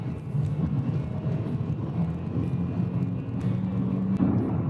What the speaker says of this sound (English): I got too much wheel spin